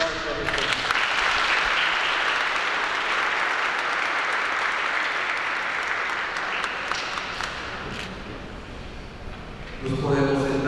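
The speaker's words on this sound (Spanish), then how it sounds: "Vamos a un fuerte aplauso a este." Guests at a quinceañera party in Río Bravo, Tamaulipas applaud in a loud, sustained burst that gradually thins toward the end, and a voice comes in over the dying claps.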